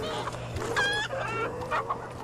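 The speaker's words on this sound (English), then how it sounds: "Chickens. Hello, chickens." Chickens cluck and squawk in a Black Ops 3 custom zombies map, several overlapping calls close by over a steady low game hum.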